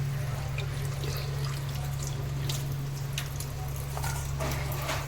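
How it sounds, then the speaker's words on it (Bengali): Mutton is rinsed under running water in a home kitchen. Tap water rushes and splashes steadily and fairly close. "মাটনটা একটু ধুয়ে নিচ্ছি।"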